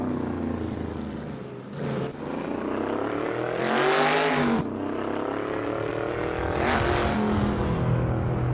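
A car crawls slowly over a rough, bumpy road on a Memorial Day drive, its engine and chassis giving a steady loud rumble that swells and eases, with no talk.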